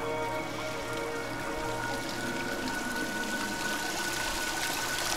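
Water splashing and streaming in the video game Dear Esther, a steady continuous wash like falling water or a shower, moderately loud and filling the whole stretch without a break.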